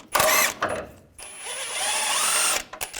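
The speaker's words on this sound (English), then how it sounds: "we're going to take these two bolts out using an 18mm socket up top" A power tool with an 18mm socket backs out bolts holding the steering rack on a 2015-2018 GMC Sierra 1500 5.3L V8, a short burst, then a longer loud whirring run, close by.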